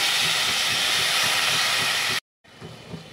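Washed mixed vegetables hit a hot pan over a low flame and erupt in a loud, steamy sizzling hiss that cuts out suddenly, then returns quieter and softer as the frying settles.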